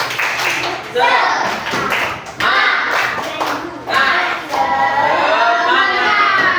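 A group of teachers claps out a rhythmic spirit clap in a classroom after a training session, with fast bursts of hand claps and taps in patterned sets and some voices mixed in.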